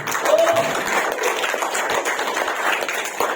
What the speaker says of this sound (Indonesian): Applause untuk DCT.